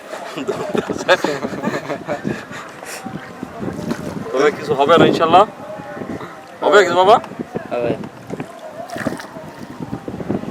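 Wind gusting across a river on a Padma char while a small boat is rowed along, a steady rushing bluster under continuous close conversation between people aboard.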